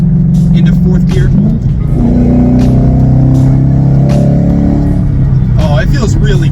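A car running a BAMA 93 race tune pulls hard in fourth gear, its engine note climbing in pitch over several seconds, loud and close from inside the cabin, with a voice talking over it.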